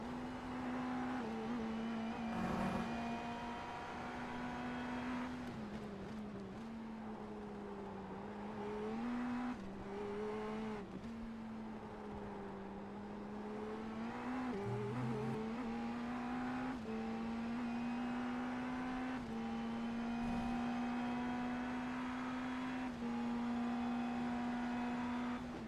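An onboard Indy NXT race car engine from the iRacing sim at Sebring drones steadily at high revs, with small pitch dips and rises through shifts and corners, loud and continuous with no voices over it.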